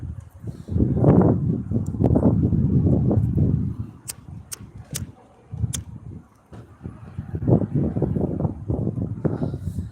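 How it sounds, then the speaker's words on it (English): Outdoor wind in England rumbles and buffets loudly against the microphone in uneven gusts, with a few sharp clicks partway through. "Yeah, it is pretty windy."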